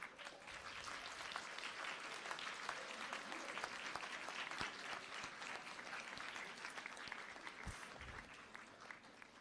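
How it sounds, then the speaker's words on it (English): Graduates at a St. George's University commencement ceremony in Grenada stand and give a sustained, even round of applause, a dense wash of many hands clapping with no talking over it. "give them a rousing round of applause"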